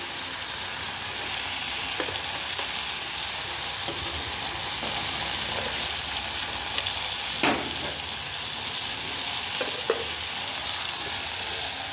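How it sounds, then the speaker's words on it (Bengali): Okra and bitter gourd frying in oil in a pan, an even moderate sizzle and crackle with occasional soft utensil taps and scrapes, no speech. "এবার ওদিকে ঢ্যাঁড়সটা ভাজা হচ্ছে, এখানে উচ্ছেটা হচ্ছে"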